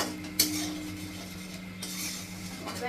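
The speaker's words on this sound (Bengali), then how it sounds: "আমি এবার ঢাকাটা তুলে দেখব ঝোলটা কেমন হয়েছে।" A metal lid is lifted off a pot of simmering fish curry with a single light clink, followed by faint kitchen clatter over a steady background hum, close by and without talk.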